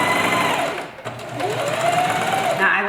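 A sewing machine stitches rows of shirring on a sundress, guided along the edge of the first row by the presser foot. Its rapid, steady mechanical whir runs close and continuous, dipping briefly before resuming.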